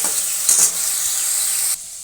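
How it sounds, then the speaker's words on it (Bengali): Eggplant and vegetables frying and being stirred in a hot pan with salt and turmeric, a steady close sizzle with brief scraping bursts, loud and alone, dropping slightly in intensity near the end. "এরপর এই বেগুনটা একটু ভাজা ভাজা হয়ে গেছে"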